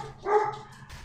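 A dog barks indoors during a Dead Cells gaming session, a single loud yelping bark near the microphone over low background hum.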